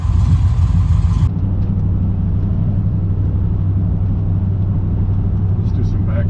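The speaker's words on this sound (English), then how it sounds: "Let's do some background driving, windows up." A 1996 Dodge Ram 1500 driving with the windows up, heard from inside the cab as a steady, low engine and road rumble. A brief hiss at the start drops away, and the drone then holds fairly quiet and even.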